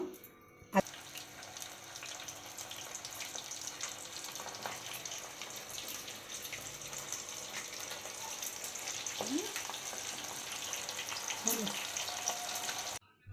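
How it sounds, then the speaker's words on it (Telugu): Prawns deep frying in hot oil give a steady, dense crackle and sizzle that runs throughout, with occasional clinks of a utensil stirring in the pan. "ఇవి రొయ్యలు అనమాట ఆల్రెడీ వాటిని ఇందాక లెగ్ పీస్ లేపా కదా దాంట్లోని ప్రతి వీటిని డీప్ ఫ్రై చేస్తున్నాను నేను"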